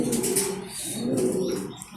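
Racing pigeons coo softly in two low, rounded pulses close by, with a faint rustle around them.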